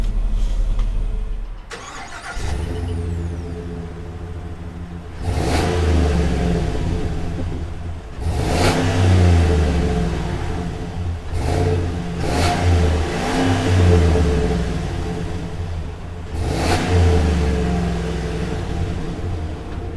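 A 2020 Chevrolet Silverado 2500's 6.6-liter gas V8 idles with a deep rumble, then revs sharply several times, each roar rising and falling back to idle.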